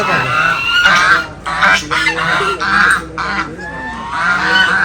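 Ducks honk loudly and repeatedly, several overlapping calls in quick bursts, close by.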